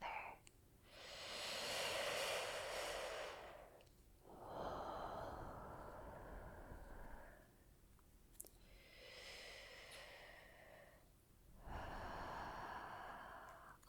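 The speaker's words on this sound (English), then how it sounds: "Let's take 2 more deep breaths together" Two slow, deep breaths are drawn in and let out close to the microphone, each long airy inhale and exhale separated by short quiet pauses.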